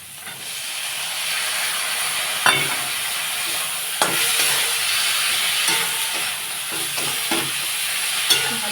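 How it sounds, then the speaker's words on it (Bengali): Chopped figs sautéing in spiced masala in a pan for a fish curry, giving a continuous steamy hiss and sizzle with several sharper scrapes and knocks of the spoon at irregular intervals. "ভালো করে কষিয়ে নেব"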